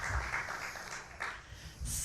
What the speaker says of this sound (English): So let's give a big round of applause for